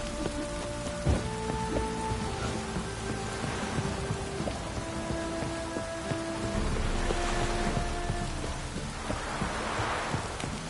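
Heavy downpour in The Witcher 3 video game, a dense steady hiss of rain on surfaces filling the scene, with tonal game music lines running underneath throughout.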